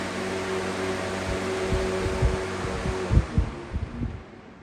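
A Lasko Cool Colors electric fan runs steadily, a close, even whoosh of moving air with a faint motor hum and a few soft bumps near the end.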